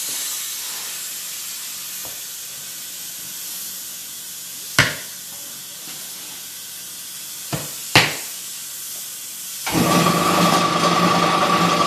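An air compressor kicks on during a manual truck tire mount: a few sharp clanks and pops against quiet background, then a steady loud hiss of running air in the final seconds.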